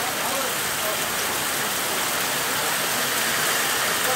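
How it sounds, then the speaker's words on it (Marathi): Heavy unseasonal storm rain pounds on a metal sheet roof, a loud, dense and unbroken roar close overhead. "आवाज पत्र्याच्यावरून समजता, पत्र्याचा आवाज मोठं वाढलो, पाऊस वाढलेलो समजता."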